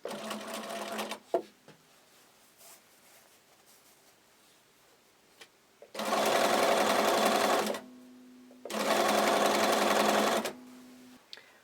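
A sewing machine bastes a ruffle for a tag blanket, starting with a brief run, then after a quiet pause two loud, close, steady runs of about two seconds each with a low hum between them.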